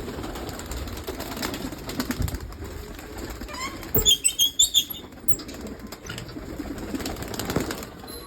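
Pigeons murmur in low coos, then a quick burst of wings flaps several times in a row close by before settling again.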